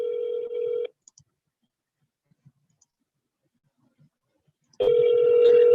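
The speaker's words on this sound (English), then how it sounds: "Let's see if they answer the phone" An outgoing phone call's ringback tone sounds twice: a steady electronic ring, a long silent gap, then a second ring starting, moderately loud with no talking.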